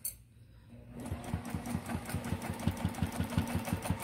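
A sewing machine stitching free motion quilting on a quilt sandwich: after a quiet start it runs in a steady, rapid rhythm of needle strokes, close and clear, with no talk.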